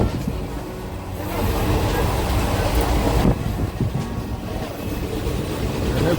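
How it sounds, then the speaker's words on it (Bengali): A train slowly pulls out of Durgapur station, its rumble and wheel noise heard from inside a carriage, steady and moderately loud with a shift in tone partway through. "এখন আমরা দুর্গাপুর স্টেশন ছেড়ে আস্তে আস্তে বেরিয়ে চলেছি।"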